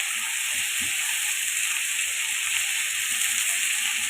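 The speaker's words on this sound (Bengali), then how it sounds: "এখন পেঁয়াজ মরিচের সঙ্গে আমি আলুটাকে একটু ফ্রাই করে নিব" Potatoes fry with onion and chili in hot oil for a light curry, giving a steady, dense sizzle with a constant hiss and soft stirring clicks, close and unbroken with no talking.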